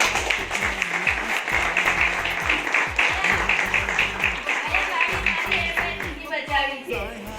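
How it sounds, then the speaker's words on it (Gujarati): An audience claps in honor of a woman at a team gathering. The applause is dense and steady, with sharp scattered claps throughout, and a voice speaks over the clapping. "એ મેડમ માટે જોરદાર તાળી પડી જાય"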